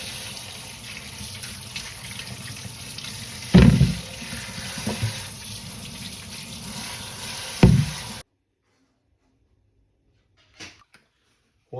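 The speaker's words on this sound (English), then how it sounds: "Before you start to wash the bones" Tap water runs steadily into a sink while bones are washed, a continuous hiss broken by two louder splashes or clunks before the water cuts off, leaving near silence with a faint knock.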